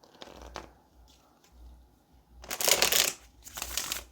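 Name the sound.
shuffling cards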